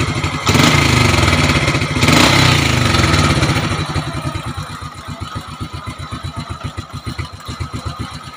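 A motorcycle engine idles during carburetor tuning, first revved in loud roaring bursts, then settling into a steady, rapid putter of close, evenly spaced firing pulses.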